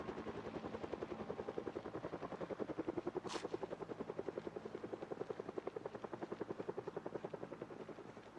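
A steady, close helicopter rotor chopping in the Project Zomboid video game, its rapid regular thumping holding evenly throughout with a brief high hiss partway through.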